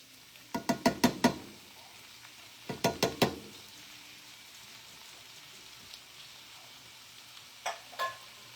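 Canned drained mushrooms stirred in a frying pan, giving two quick bursts of sharp scraping clicks over a low, steady sizzle, then a couple of fainter taps near the end.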